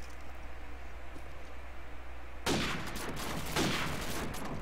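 Call of Duty 4 gunfire in a competitive match: a quiet stretch, then a sudden loud burst of shots with a second volley about a second later, set against steady low background hum.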